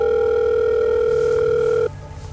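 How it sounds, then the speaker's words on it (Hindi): A mobile phone rings from inside a pocket as a sound effect in a Hindi horror story, a steady electronic tone sustained loud for about two seconds before cutting off abruptly, with no talk over it. "उस वक्त तक जब तक उसकी पॉकेट में रखा फ़ोन नहीं बजा।"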